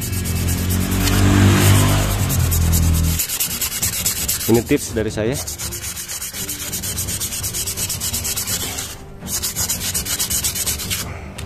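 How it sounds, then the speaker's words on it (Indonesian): Steady, close sandpaper rubbing scrapes continuously against a hard metal part of a motorcycle CVT, with a low rumble early on and a brief spoken remark. "Jadi kita menggunakan amplas dulu, lalu kita amplas seperti ini biar ini enggak licin"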